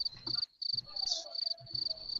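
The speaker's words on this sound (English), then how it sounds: "Crickets." Crickets chirping as a sound effect: fairly faint, continuous high-pitched trilling in quick repeated pulses, with brief gaps.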